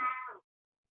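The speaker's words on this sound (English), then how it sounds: "I'm wondering why we hear a little noise in the background. Is that your cat?" A single short cat meow sounds faintly in the background, then cuts off into silence.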